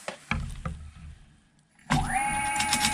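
E-bike hub motor on a Sabvoton sine wave controller, a few soft clunks, then a sudden rising electric whine at full throttle that settles into a steady, fairly loud hum.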